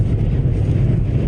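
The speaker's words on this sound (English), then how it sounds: "Intense winds whipping across Texas." Intense wind gusts whip across the Texas plains during a dust storm, making a constant loud low roar and buffeting against the microphone with no voices.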